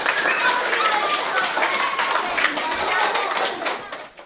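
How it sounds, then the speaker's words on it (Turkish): Schoolchildren at a charity donation visit clap in quick, uneven bursts, with voices talking and calling over the clapping throughout. "o alkışları aslında biz sizler için yapıyoruz"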